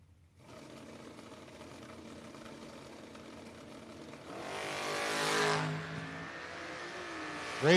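Drag racing at a No-Box 660 shootout as a Ford wagon and an Oldsmobile run down the track, engines droning at a distance and then swelling into a loud, brief roar as they pass.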